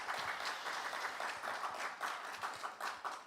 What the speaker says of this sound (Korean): 환영의 박수.